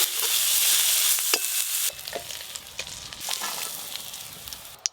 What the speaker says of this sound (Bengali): সবজিগুলো সব একসাথে ভেজে নেব